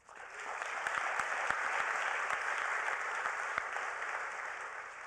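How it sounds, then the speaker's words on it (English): Sustained applause from an audience at an awards ceremony at the United Nations, steady clapping that swells in and holds at a moderate level. "Let's give Liz Kingo a big hand of applause"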